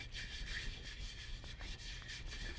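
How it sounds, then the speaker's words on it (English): A hand rubs baking soda paste onto a garden container, a continuous close scrubbing hiss with gentle rhythmic strokes and no voices. "You can just use it with your hand and rub it on the container like this."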